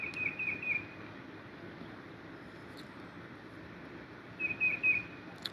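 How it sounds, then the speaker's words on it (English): Birds, including a catbird, chirp outdoors in calm open air, with two short whistled chirp bursts at the start and end over a soft steady ambient background. "The birds are chirping like normal birds."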